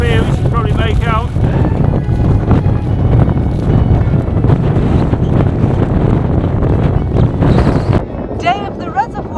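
Strong wind on a reservoir dam wall along the Pennine Way buffets the microphone in a constant loud roar, with a voice speaking now and then under the rumble.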